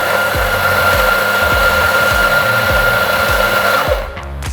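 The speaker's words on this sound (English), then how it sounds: "get your group handle and grind your espresso" Coffee grinder grinding espresso into a portafilter group handle for a cappuccino, loud and close with a steady whir and a rhythmic pulsing low beat, cutting off near the end.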